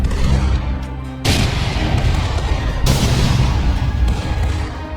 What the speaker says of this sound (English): we did manage to get back aboard our ship and open fire